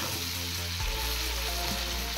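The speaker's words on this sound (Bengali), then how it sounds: "এবার একটু ফ্রাই করে নেব ভালো করে। এবার ভেজে রাখা চিংড়ি মাছগুলো দিয়ে দিয়েছি।" Prawn curry with bottle gourd sizzles loudly in a pan after the fried prawns go in, a steady dense hiss with a low rumble, close and continuous, with no voices.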